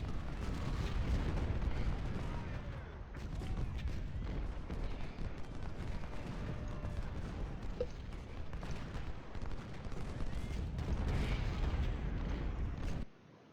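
Distant and near artillery booms and crackling rifle volleys from the Civil War strategy game Ultimate General: Civil War roll continuously for over ten seconds, a dense layered battle din before cutting off abruptly.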